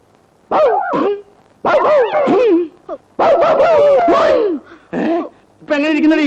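A person imitates a dog, giving loud, close barks, yips and whimpering howls in several bursts with short pauses between.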